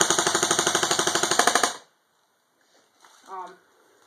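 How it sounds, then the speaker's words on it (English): A JG R36C airsoft gun fires fully automatic: a rapid, evenly spaced stream of about twenty sharp mechanical cracks in under two seconds, then quiet with faint handling noise and a brief murmur afterward. "I'm just showing you how fast this gun can shoot. Here's fully auto."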